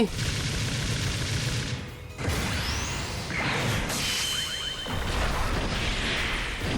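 Mobile video game gunfire from Mobile Suit Arena crackles in dense bursts alongside beam whooshes, mechanical clanks and impact crashes, layered over busy in-game effects with a voice talking underneath.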